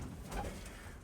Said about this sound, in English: Good pigeons in here.